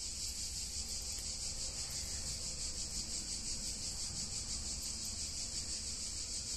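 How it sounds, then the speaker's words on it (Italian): Cicadas singing loudly and continuously on a hot summer day near Bologna, a dense steady high-pitched drone with no pauses and no voices. "Queste cicale quanto cantano oggi, vedete che è proprio caldo"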